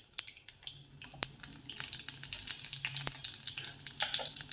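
Mustard seeds and cumin crackle and pop in hot oil in a pan, a quiet, steady spattering of small sharp ticks with no voices.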